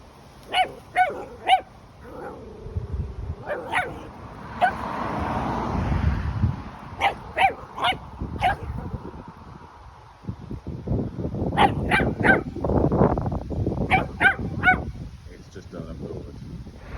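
A dog barks at a piece of wood repeatedly in sharp bursts, with pauses between clusters, while a low rumble and some talking run underneath.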